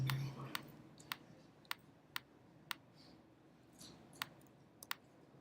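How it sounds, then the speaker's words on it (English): Sharp, sparse computer mouse clicks sound during image editing, single and occasional doubled taps spread unevenly over a faint steady hiss, close and quiet. "smooth it out later by just clicking 1 or 2 times with the mouse"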